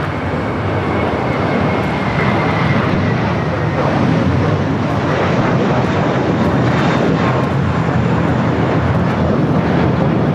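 A FedEx jet from Memphis lands on the north runway at LAX, its engine roar a broad, steady wash that holds loud and constant from start to finish.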